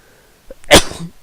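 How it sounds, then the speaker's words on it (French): One sharp, loud sneeze close to the microphone, a quick intake and then an explosive burst that fades within a second, with nothing else around it. "j'ai éternué"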